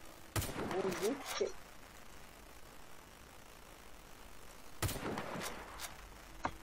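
Sniper rifle shots in Garry's Mod video game: two loud, sharp cracks several seconds apart, each with a ringing echo tail, over steady game background, with a brief voice.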